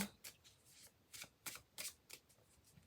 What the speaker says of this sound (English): Now, I'm going to use my clue cards now.